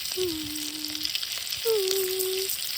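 Sausages frying in a pan at a woodland campsite, a steady close sizzle throughout, with two sustained tonal hums laid over it.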